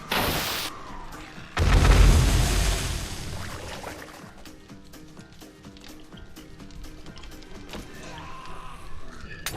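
Bombs detonate in the survival game 7 Days to Die, opening with a heavy booming blast that rumbles and fades into crackling debris and scattered pops, followed by another swelling burst near the end.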